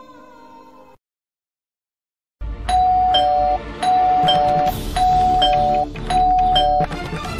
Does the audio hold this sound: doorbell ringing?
yes